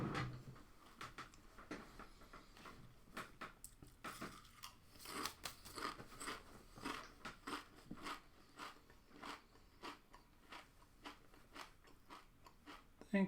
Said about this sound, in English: Doritos are really bad to eat while working on